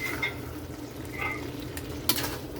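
Laing, taro leaves in coconut milk, being stirred in a pot, a few soft scrapes over a steady low simmering bubble, fairly quiet with no talk.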